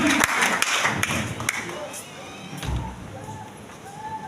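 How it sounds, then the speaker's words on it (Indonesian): Church congregation clapping and cheering in praise during a worship service, a dense burst of applause at the start that thins into scattered claps, with voices mixed in. "Mari Bapak Ibu berikan sorak-sorai bagi Tuhan yang luar biasa"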